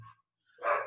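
A dog barks once indoors, a single loud, close burst near the end that follows a short quiet gap.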